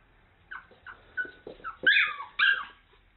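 A puppy whimpers and yelps, a string of short high whines rising to louder cries, close and alone in a quiet room.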